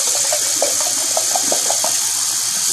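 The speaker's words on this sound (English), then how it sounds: "Rinse this off." Tap water runs steadily into a sink, rinsing a baby bottle, with the spatter changing as the bottle is moved under the stream.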